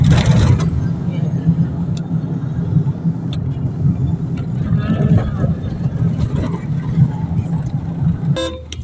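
Road traffic on a street under construction, a steady low rumble of cars and engines running throughout with a few horn toots, and people talking underneath.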